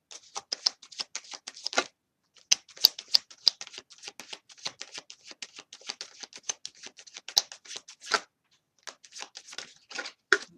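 Tarot cards being shuffled by hand, quick irregular bursts of crisp riffling and flicking, close and clear with short pauses between runs and no talk.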